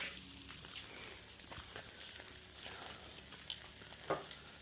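Steaks sizzle on a charcoal grill outdoors, a steady bright hiss with occasional pops and crackles, fairly close and even throughout.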